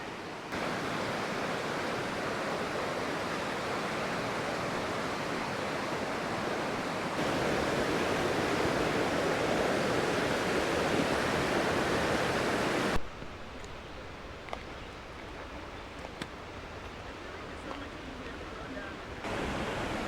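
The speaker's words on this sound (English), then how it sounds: "Well, here it is, Bish Bash Falls." Bash Bish Falls, a waterfall in wooded Taconic State Park, roars as a steady loud rush of falling water, broad and constant, with a brief shift in tone partway through.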